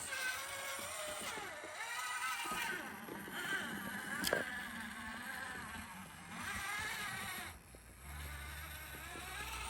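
An RC micro dually truck reverses over rough terrain, its small electric motor giving a continuous whining drone that rises and falls, close and fairly steady with brief dips.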